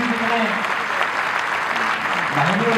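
Audience applause at a heart health awareness event, a dense, continuous burst of clapping with a voice talking over it throughout.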